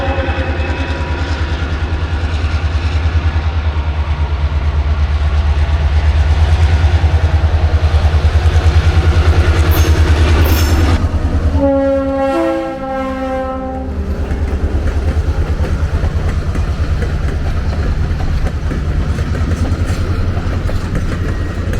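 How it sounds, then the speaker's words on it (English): Lehigh Gorge Scenic Railway diesel locomotive #2023 rumbles loudly past through Hetchels Curve with heavy engine drone, then a multi-tone horn blares briefly before the wheels keep clattering along. "this final clip is the return of the 3 o'clock train through Hetchels Curve."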